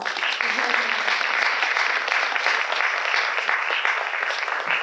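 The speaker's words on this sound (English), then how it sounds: "let's go ahead and give our panelists and Council President Stewart a round of applause" Sustained applause from an audience fills the room, steady and dense from start to finish with no break.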